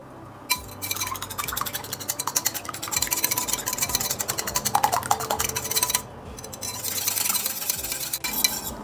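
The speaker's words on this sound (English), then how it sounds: "I'm done with the mixing of the egg and the milk" Egg white and milk whisked together in a bowl for a Ghanaian bofrot (puff-puff) batter, a steady rapid clinking and stirring that runs continuously near the mic with a brief pause before resuming.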